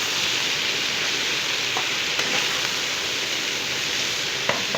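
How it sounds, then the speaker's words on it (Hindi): Okra (bhindi) fries in oil until crispy with a constant, dense sizzle throughout and a few faint clicks of stirring. "गोल्डन होने तक हम इसको फ्राई करेंगे।"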